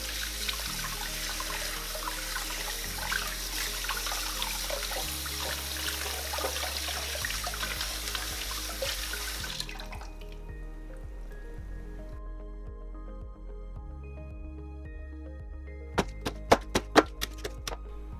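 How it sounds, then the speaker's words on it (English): Running cold water splashes and streams steadily over raw chicken for several seconds, then stops, leaving quiet clinks and a few sharp taps at the end. "Rub the skin"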